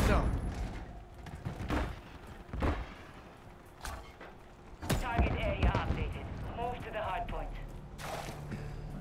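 Gunfire in Call of Duty MW3 during a Hardpoint match, heard as scattered sharp shots and short bursts under a player's excited talking.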